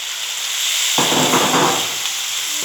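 Mushrooms go into a pan of sweated shallots and butter: a steady background hiss swells into a louder, busier sizzle as they land, then settles.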